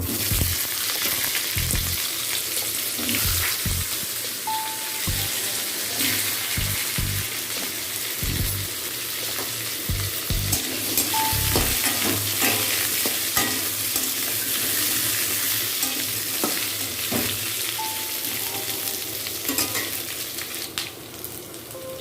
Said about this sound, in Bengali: এবার তেলের মধ্যে আলুগুলো ভেজে নেব।